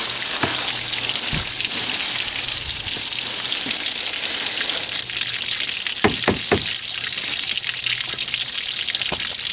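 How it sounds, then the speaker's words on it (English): Water drains steadily out of a hydroponic Dutch bucket, a constant close hiss and trickle with a few scattered drips and splashes, no voices. "see that this is draining out here."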